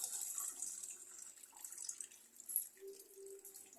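Water runs from a tap over pork being rinsed for boiled pork soup, a soft, steady hiss and splash close by with faint dripping and no talk.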